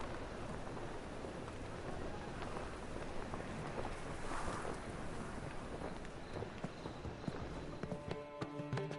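Sailing by boat to Skellige in The Witcher 3: a steady rush of wind and water against the hull, with knocking creaks and light clatter, and a few ringing tones near the end.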